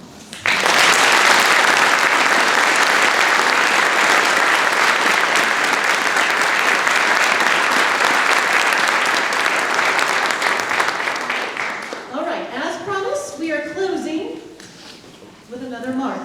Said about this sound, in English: would you please help me give them a round of applause